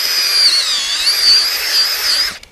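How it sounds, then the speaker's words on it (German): A cordless drill fitted with an earth auger bores planting holes into garden soil, a steady high-pitched motor whine running continuously for over two seconds before cutting off abruptly. "Ich bohre mit dem Akkuschrauber und dem Erdbohrer die Löcher vor."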